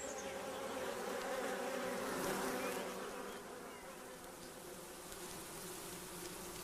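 Honey bees buzz inside their hive in a dense, steady hum, close and continuous, swelling slightly before settling to an even drone.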